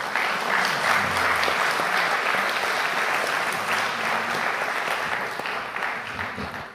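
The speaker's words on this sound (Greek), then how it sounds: "Και όλα αυτά τα χειροκροτήματα τα στέλνω στον Ιησού Χριστό." An audience applauds at a church ministry presentation, a dense, continuous round of clapping that stays loud throughout and eases off slightly at the end.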